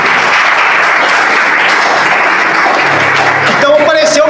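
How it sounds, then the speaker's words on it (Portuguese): Steady applause from a church congregation fills the space, with voices rising over the clapping near the end. "Palmas para Jesus."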